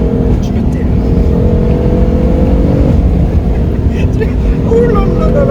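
A BMW M4 fitted with a Milltek exhaust line runs with a steady, loud engine drone and slight rises in revs, continuous throughout with no talking over it.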